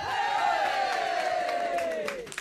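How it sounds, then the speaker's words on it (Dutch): A large crowd at a live outdoor concert roars and cheers together in one sustained, loud yell that tails off after about two seconds, with whoops and applause mixed in. "Applaus voor jezelf."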